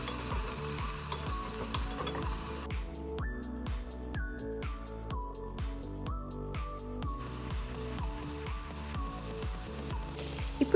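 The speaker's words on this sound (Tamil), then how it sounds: "கூடவே மஞ்சள் தூள், garam masala, red chilli powder இது எல்லாத்தையுமே சேர்த்து நல்லா வதக்கிக்கலாம்." Green peas sautéed with turmeric, garam masala and chilli powder in a pan for kuska biryani make a continuous close sizzle with rhythmic stirring scrapes and no speech.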